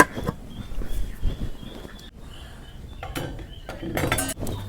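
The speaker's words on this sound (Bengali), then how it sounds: "এখন আমি ঢাকিয়ে দেবো।" Metallic clinks and clatter as a lid is set on a cooking pot of fish with turmeric, several sharp knocks and rattles close by over faint kitchen background.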